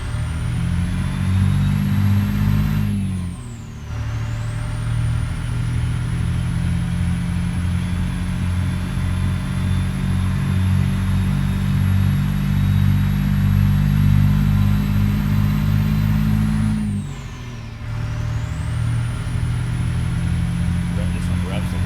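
A CAT 3406B diesel engine in a truck in American Truck Simulator drones loudly and steadily, with two brief drops in revs as the truck shifts gears, then climbs again.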